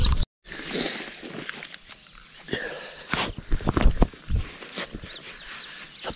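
Insects chirp in a steady high drone across an open field at night, with nearby rustling and shuffling steps breaking in toward the middle.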